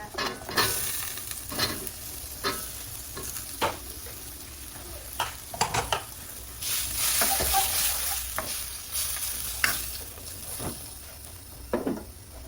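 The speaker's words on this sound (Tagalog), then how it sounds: "So, since na itong ating karne, luto naman na, i-add na po natin ang kalabasa." Squash tossed into already-cooked meat in a hot pan, a constant oily sizzle broken by repeated scraping stirs and clacks of a spatula, fairly close, no one talking.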